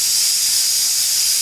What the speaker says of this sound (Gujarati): કુકરનો અવાજ આવશે